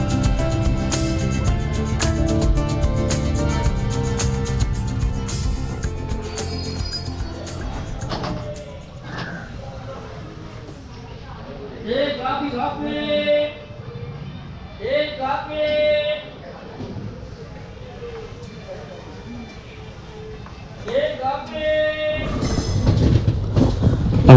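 The Amritha Express passenger train runs toward Dindigul station with rhythmic rail clatter and a horn-like tone early, fading to softer rolling, while a person talks over parts of it.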